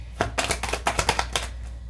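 A deck of tarot cards riffle-shuffled by hand in quick bursts, about eight crisp papery flutters in two seconds, close and fairly loud with nobody talking.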